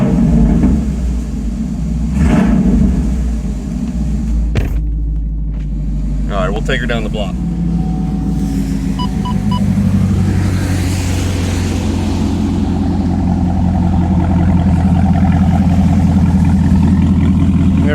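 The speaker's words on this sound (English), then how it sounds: "First start up with the resonators deleted here." A deep, throaty V8 exhaust on a 2020 Camaro SS 1LE with resonators and secondary cats deleted rumbles steadily at idle nearby, with someone talking over it.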